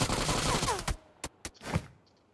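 Gunfire in the mobile battle game PUBG Mobile: a dense burst of rapid shots, then three or four separate sharp cracks spaced apart, loud and close, with no voices.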